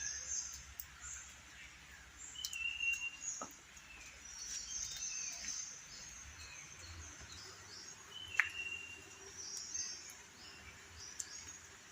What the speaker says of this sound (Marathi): पक्ष्यांचा किळविळाट